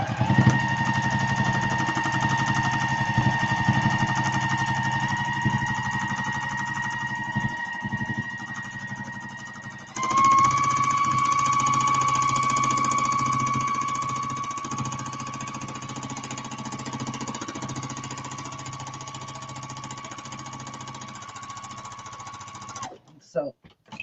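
A sewing machine stitches a drawstring bag in a fast, continuous mechanical rattle with a motor whine. The run breaks briefly partway through, picks up again at a slightly different pitch, and then stops.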